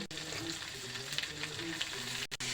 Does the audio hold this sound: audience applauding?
no